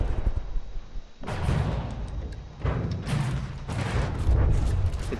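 A missile barrage in the video game From the Depths sets off heavy, overlapping explosions, rumbling booms and crackling blasts rolling one after another with hardly any pause.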